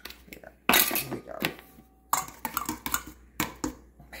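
A spoon is picked up among dishes while preparing applesauce and apple with honey, making several sharp clinks and clatters in irregular bursts, fairly quiet and close.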